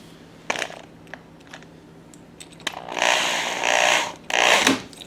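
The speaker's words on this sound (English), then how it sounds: "So now I can drill straight." A power drill bores into a sliding closet door, whirring in several bursts that grow longer and louder toward the end, separated by short clicks and handling knocks, with no talk.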